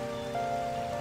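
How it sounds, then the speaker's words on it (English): Rain falling in a steady, even patter, with a faint tonal hum running underneath throughout the short stretch. "Oh, it's raining again."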